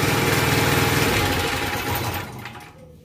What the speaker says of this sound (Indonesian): Genset sudah mati. Dimatikan tombol sininya saja.